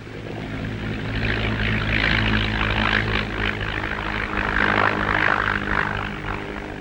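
Propeller engine of a de Havilland Beaver at an Antarctic airstrip, a steady loud droning roar with a constant low hum throughout, close by and unbroken.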